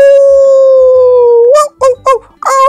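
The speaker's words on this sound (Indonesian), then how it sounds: "mereka dikagetkan oleh suara lolongan serigala liar" A long, steady wild wolf howl holds one wavering pitch for over a second, then breaks into a few short yelping bursts and a final rising cry, in a film scene.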